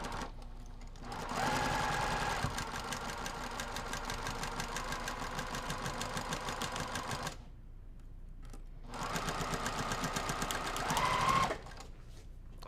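Sewing machine stitching fabric during a finishing tutorial, running in two steady, close, loud bursts with a short pause between them and no talking.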